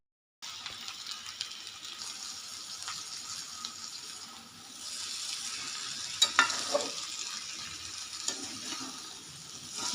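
Onions and potatoes fry in a pan, a soft, faint sizzle running steadily with a few light stirring clatters partway through.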